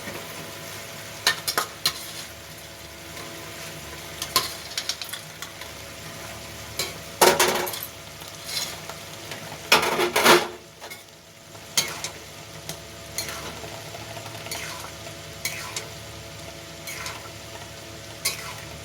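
Soya chunks stir-fried in a pan for soya chilli, soft scraping stirs and intermittent bursts of sizzling spread over a quiet steady background, with no one talking.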